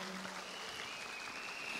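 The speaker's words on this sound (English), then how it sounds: "put your applause for all of our dancers for the opening dance" Audience applause for dancers after an opening dance at an award convention, a steady, diffuse patter of many hands clapping across the whole stretch, moderately faint and even, with a few indistinct voices in the crowd.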